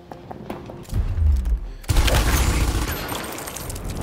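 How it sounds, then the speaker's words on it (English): Bursts of gunfire and heavy impacts from the video game Gears Tactics: scattered shots at first, then a loud, sustained barrage of fire with booms and debris continuing to the end. "Give him a disabling shot."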